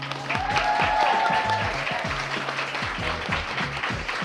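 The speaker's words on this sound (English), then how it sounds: "Come on, y'all can clap." A live crowd at a coffee-shop podcast taping applauds, a dense patter of clapping over a low rhythmic music bed that continues throughout.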